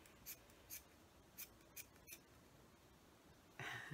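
Scissors cut a recycled denim strip for an apron in a series of about five faint, evenly spaced snips, followed by a brief louder rustle at the end, with no talking.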